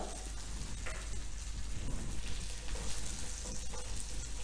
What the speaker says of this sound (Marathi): गॅसची फ्लेम बारीक करायची आहे आणि लसूण पण छान खरपूस भाजून घ्यायचं आहे।